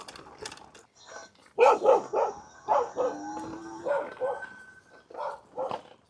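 Several guard dogs bark repeatedly at a moderate distance, overlapping yips and a drawn-out howl-like note mixed in.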